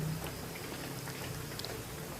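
Rain falls steadily during an outdoor religious study gathering in Indonesia, a constant soft hiss and patter with no distinct drops standing out, faint and even throughout.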